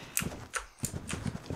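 A horse gallops in the horse-riding video game Ride, giving a quick run of muffled rhythmic hoofbeats, moderately loud and close, with no talk over them.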